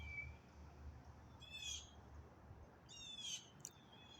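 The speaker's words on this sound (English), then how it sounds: "listen to the sound of the birds" Birds calling outdoors in nature, with two short bursts of bright chirping trills a moment apart over a steady low rumble of ambient background, fairly faint and distant.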